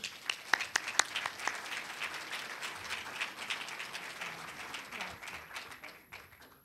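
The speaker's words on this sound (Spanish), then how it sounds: "un fuerte aplauso para ellos" An audience applauds speakers at a book presentation for a fine arts museum friends' association, with scattered sharp claps at first swelling into moderate, fairly distant clapping that gradually fades.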